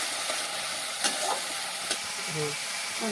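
Spices sizzle steadily in hot oil for an egg curry, with a constant frying hiss and occasional scraping stirs.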